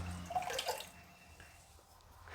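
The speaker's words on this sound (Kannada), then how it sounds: "4 ರಿಂದ 5 ಲೋಟ ನೀರು ಹಾಕ್ತಾಯಿದ್ದೀನಿ." Water is poured into a cooking pot while making instant millet khichdi: a short, quiet splashing pour near the start that fades into a low background, with no talking.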